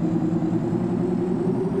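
A Ford F550 Powerstroke truck engine in Farm Simulator 22 fires up and settles into a steady, deep rumbling idle, close and continuous with no voices.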